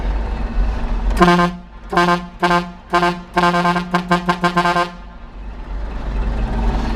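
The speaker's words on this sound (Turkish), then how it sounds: "Şimdi sizlere kornayı duyuracağım." A car horn honks in a series of blasts: a few separate toots, then a quick rapid run of short beeps over a low idling engine.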